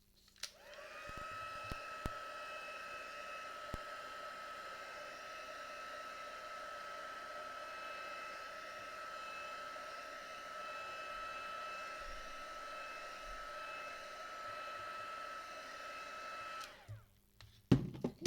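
A hair dryer drying a watercolour painting of a Christmas snowman, a steady close whooshing blow with a tonal whine that runs continuously for about fifteen seconds before switching off with a few knocks.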